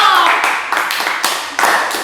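On an Indonesian podcast, one person claps a few times in appreciation, close and loud, with sharp claps spaced roughly half a second apart and a voice speaking in between.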